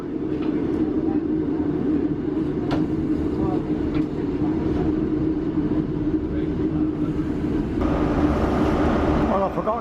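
A diesel HST train sits at a station in Worcester, its low engine rumble droning steadily throughout with brief clanks, while voices talk over it.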